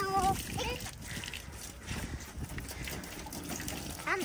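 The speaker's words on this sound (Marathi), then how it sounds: "व्यवस्थित पाणी मार आतमध्ये" Water sprays and splashes into a muddy tractor trolley during washing, a steady gushing wash under a person's talking.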